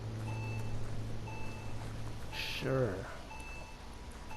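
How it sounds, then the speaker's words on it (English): Regular electronic beeping in the game Biomutant pulses at a steady rhythm over a game soundscape, and a voice briefly speaks partway through. "What's beeping?"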